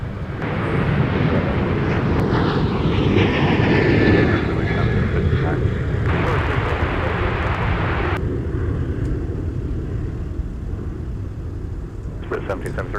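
A Delta Boeing 737 jet roars loudly and continuously at Minneapolis–St. Paul Airport on a winter day, the engine noise rising and shifting as the aircraft moves, with a voice talking over it.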